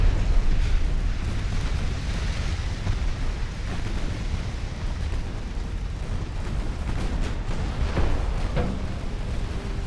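Warship batteries firing high-explosive shells in the naval game Ultimate Admiral: Dreadnoughts, an 1890-era hull battle, with dense continuous rumbling booms and blasts layered over each other throughout, loud and sustained without clear gaps.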